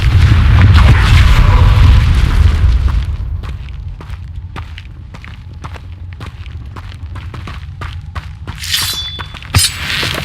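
Hogwarts Legacy gameplay: a Confringo spell explodes with a loud, rumbling boom that fades over a few seconds, followed by scattered debris clatter and crackling effects, no voices.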